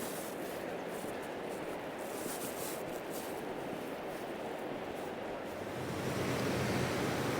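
An icy river in Spiti Valley rushes past in a constant loud roar of water, growing slightly fuller near the end, with no voices.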